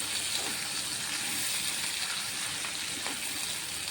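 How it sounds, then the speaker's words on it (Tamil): Ivy gourd sizzles in hot oil in a pan with no water added, a dense, even frying hiss that holds steady and close throughout with occasional faint pops. "நம்ம தண்ணியே சேர்க்கல, எண்ணெயிலேயே தான் வதக்குறோம்."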